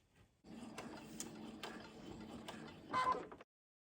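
Sewing machine stitching fabric cut on the bias, a steady close mechanical whir with quick rhythmic ticking that swells briefly near the end and then stops.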